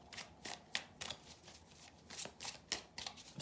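Tarot cards are shuffled and drawn by hand, making quiet, close riffling bursts of card-on-card flicks in an uneven rhythm, with no talking.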